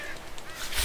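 Birds honking in The Walking Dead video game, a short burst of loud goose-like honks rising toward the end.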